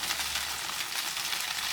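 Chicken pieces searing in a hot pan for a Kung Pao dish, a soft steady sizzle and crackle of frying throughout, quiet and close with no talking.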